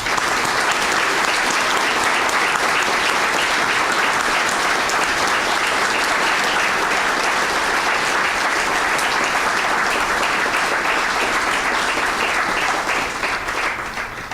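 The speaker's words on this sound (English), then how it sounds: "Join me in a round of applause." Sustained, loud applause from a banquet audience honoring United States Navy veterans, many hands clapping in a dense unbroken roar that holds steady for the whole stretch before tapering slightly.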